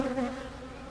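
Steady, droning buzz of many honey bees close by around a hive, a continuous hum with a slightly wavering pitch and no voices.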